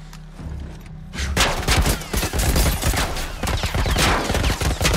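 Rapid bursts of automatic gunfire in The Last of Us, loud and close, sustained after a brief quieter lead-in with dense overlapping shots.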